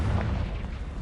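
A Confringo fire spell in a Harry Potter video game bursts as a deep, rumbling blast that fills the entire moment with low booming energy.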